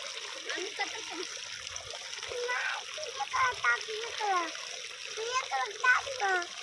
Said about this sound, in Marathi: अनुष्काला नको नको म्हणता म्हणता चटी तुम्ही किती भिजविली बघ